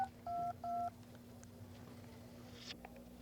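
Telephone keypad dialed in two clear, steady beep tones, then quiet handling clicks and faint rustling in a room with a low electrical hum.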